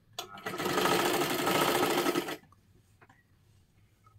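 A sewing machine stitches a princess blouse in one steady, loud run of about two seconds, then stops, leaving quiet handling sounds.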